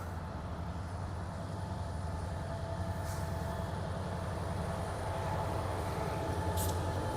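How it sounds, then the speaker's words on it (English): A train rumbles steadily overhead on a railway bridge above an underpass in Regina, a continuous low roar with rhythmic clatter of wheels over the tracks, fairly loud and unbroken. "Oh, there's a train heading over my head right now."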